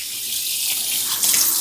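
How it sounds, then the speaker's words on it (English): Water runs steadily from a kitchen sink faucet as hands are rinsed beneath it, a close, continuous splashing hiss that swells a little near the end. "Let me rinse my hands real quick"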